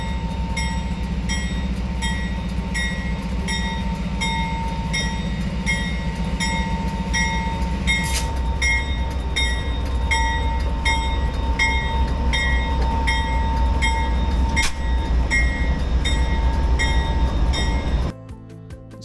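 Onboard a VIA Rail passenger train heading to Toronto, a steady loud rolling rumble with wheel clatter and faint tonal whines, continuous for most of the stretch before suddenly dropping quieter near the end.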